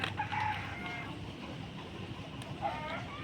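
A rooster crows and chickens cluck at night, fairly faint and distant against a steady low background hum, with brief higher calls rising above it.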